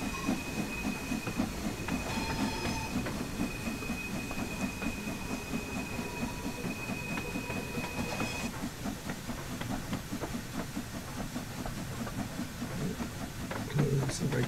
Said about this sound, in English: there shouldn't be steam coming out of the front like that because the cylinder cocks are closed.